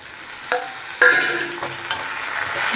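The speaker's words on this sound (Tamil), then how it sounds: "இப்போ நம்ம அது கூட வெட்டி வச்சு சின்ன வெங்காயத்தை சேர்த்துக்கலாம்." Chopped shallots stirred into a hot pan for a Tamil tamarind pulicharu, soft sizzling frying with a few scraping stirs of the spoon against the pan, close and steady.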